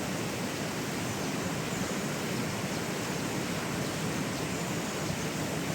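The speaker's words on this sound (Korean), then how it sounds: "비가 다시 오기 시작합니다." Steady rain falls again in a broad, even hiss, with no pauses, no distinct drops and no voices.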